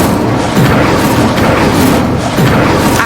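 An Incendio fire spell erupts in Hogwarts Legacy as a dense, rumbling whoosh of flame, continuous and loud for a few seconds with soft swelling bursts, no voices present.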